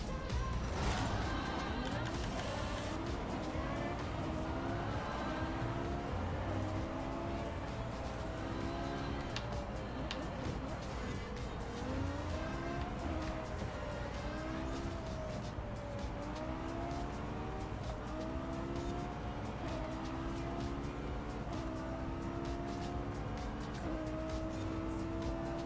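Lexus LFA racing in the Forza video game, its engine note rising and falling through repeated gear shifts, loud and continuous with tire sounds over steady game audio.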